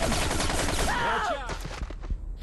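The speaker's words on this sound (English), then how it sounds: "I shot him though. I shot him." Rapid gunfire from a Battlefield 2142 firefight, a dense burst of close shots filling the first second and a half, then thinning into scattered distant reports and clatter.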